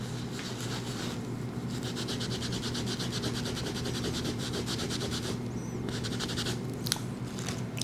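Steady, continuous rubbing as a stain is wiped off silk vinyl wallpaper. The scrubbing runs without a break at a fairly constant level, close up, with no talk.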